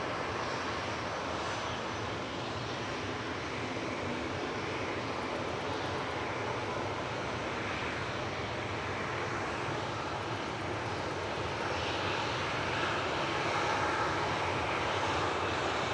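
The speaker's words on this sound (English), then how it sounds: "Yeah, first of the two air tankers taxiing out there." An air tanker aircraft taxis out at Manchester Airport, its engines producing a continuous, fairly distant drone that holds steady throughout with a slight swell near the end.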